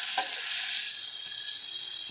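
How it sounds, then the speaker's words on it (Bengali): Steady, close sizzle of onion frying in a pan with garlic paste and ginger paste, a bright hiss that runs unbroken, with a few faint clinks near the start and end. "এইবার আমরা মশলাটা সুন্দর করে ভেজে নিব"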